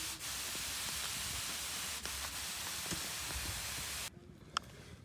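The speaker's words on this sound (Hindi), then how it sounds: "तो मॉइस्ट करने के लिए हम ये छिड़काव करते हैं इसमें" Water sprayed onto onion seeds to moisten them before treatment, a steady close hiss of spray running continuously for about four seconds, then cutting off into near quiet.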